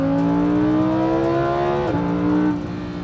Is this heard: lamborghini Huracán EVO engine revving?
yes